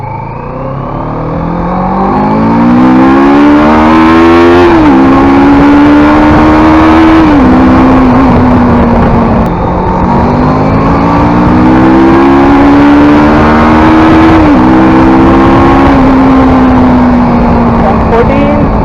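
A CF Moto 650 adventure motorcycle engine revs loud and close while riding, rising in pitch through repeated climbs and dropping at each gear change, a continuous throaty drone with wind noise.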